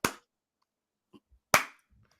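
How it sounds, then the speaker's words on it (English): A slow clap: two loud, sharp hand claps about a second and a half apart, each ringing briefly, with only faint small noises between them and no talking. "David, you got your slow clap."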